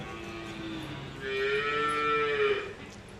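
A farm cow, in a barn where a cow has just calved, gives one long, close, drawn-out moo that swells in the middle and fades away, with no voices.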